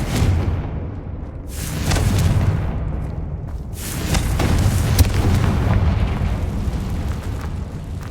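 Confringo fire spell explosions in the Hogwarts Legacy video game, with loud, booming blasts and rumbling bursts repeating over a continuous roar of fiery noise.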